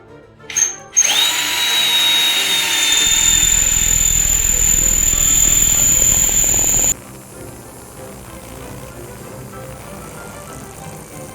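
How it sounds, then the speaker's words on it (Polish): A power drill widens a hole while fitting a bicycle kickstand, whining loudly at high speed, grinding steadily for several seconds before stopping, leaving a quieter background hum. "Zamontowałem wiertło i będę poszerzał stopniowo dziurkę"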